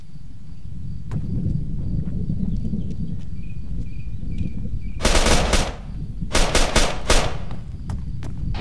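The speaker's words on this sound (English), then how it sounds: "Enemy fire!" Gunfire in the Arma 3 military game: two sharp bursts of rapid automatic fire crack out midway after a few scattered single shots, over a low ambient rumble and faint insect-like chirping.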